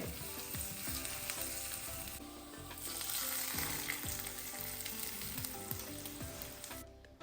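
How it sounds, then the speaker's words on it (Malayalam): Spice tempering for beetroot pachadi crackles and sizzles loudly in hot oil, a dense continuous frying sound close up with repeated clinks and scrapes throughout. "ഇതും കൂടെ ചേർത്തിട്ടാണ് ഞാൻ വറവിടുന്നത്"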